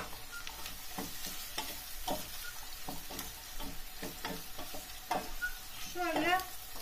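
Carrot, red kapya pepper and green beans sautéing in a pan on the stove, a steady sizzle broken by repeated scraping and stirring strokes, with a brief high clatter near the end; no voices.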